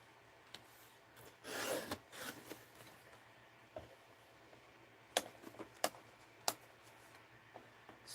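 A paper trimmer slices through a sheet of paper for a journal, a soft rasping slide followed by several sharp little clicks and taps, quiet and close.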